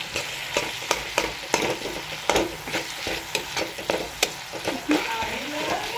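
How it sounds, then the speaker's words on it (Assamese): Onion, ginger, garlic and tomato frying in oil, a continuous close sizzle with regular scraping and stirring taps of a utensil against the pan, moderately loud and without talk. "এতিয়া আছে আদা নহৰু বিলাহীখিনি তেল এৰিব ধৰিছে।"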